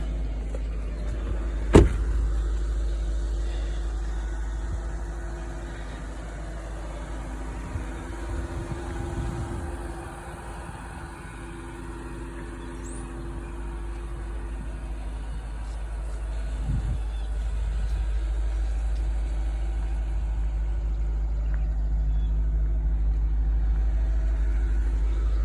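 A 9,000-mile 2004 Audi S4 idles after a cold start, still below operating temperature. A steady low rumble stays quiet and even, with one sharp click near the start.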